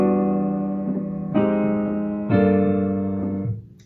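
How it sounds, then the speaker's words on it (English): Jazz guide tones played on minor chords, three sustained chord tones struck in turn, each ringing and decaying clearly on its own with no talking. "Like maybe you're practicing guide tones on only minor chords like this"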